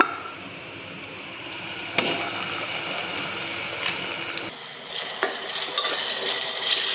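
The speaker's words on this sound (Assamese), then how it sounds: "এয়া এতিয়া আমাৰ ৰঙচুৱা হৈ গৈছে পিঁয়াজখিনি আৰু এতিয়া এয়া আমাৰ মাংসখিনি ইয়াত দি দিব" Chicken meat goes into a pan of browned onions for biryani, a steady frying sizzle broken by a sharp clatter as the meat drops in, then louder hissing with stirring scrapes.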